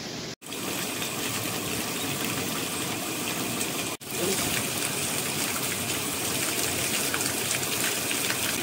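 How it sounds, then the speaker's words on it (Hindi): Cold water flows down from mountain streams, giving a loud, steady rushing gush that fills the whole stretch with only two brief cuts. "ऊपर धारों से आ रहा है पानी"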